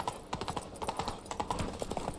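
Hooves of Roach, a horse in The Witcher 3: Wild Hunt, clip-clopping at a steady walking rhythm, with regular close hoof falls continuing throughout.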